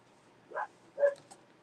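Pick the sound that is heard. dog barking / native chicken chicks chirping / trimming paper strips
dog barking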